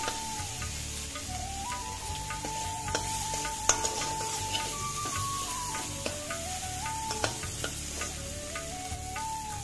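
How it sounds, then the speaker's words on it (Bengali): Prawns frying over a high flame, giving a steady crackling sizzle with small pops and spatters throughout, close and fairly soft. "চিংড়ি মাছগুলোকে হাই ফ্লেমে 30 সেকেন্ড ভেজে নিলেই কিন্তু হয়ে যাবে।"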